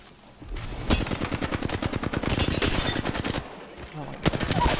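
Rapid hipfire bursts from an automatic weapon in Apex Legends, a fast regular string of close, sharp shots rattling for a few seconds, pausing, then resuming, with a voice briefly heard in the game chatter.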